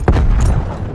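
A single sharp, loud grenade blast in Call of Duty Black Ops Cold War multiplayer, a sudden close boom that decays within a second.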